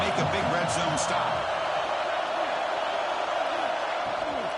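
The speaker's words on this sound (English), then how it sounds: "And here comes the noise. This crowd is trying to inspire this defense to make a big red zone stop." A packed college football stadium crowd roars steadily to rally the home defense during a red zone stand, a dense continuous wall of cheering and noise heard at a distance.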